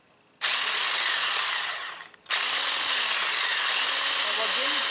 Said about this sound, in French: On va bien mixer afin qu'il n'y ait pas de grumeaux.